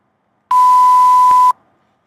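A steady pure 1 kHz test tone plays alone for about one second, downsampled to a 4000 Hz sampling rate, clean and loud with abrupt start and stop.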